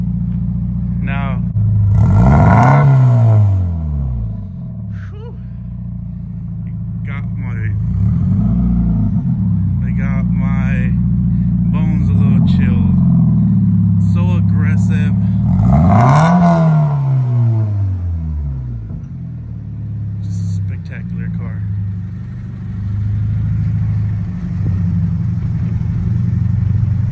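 A 2014 Scion FR-S with a custom exhaust revs repeatedly, each blip rising and falling in pitch over a loud, rumbling idle, with several spaced bursts of throttle.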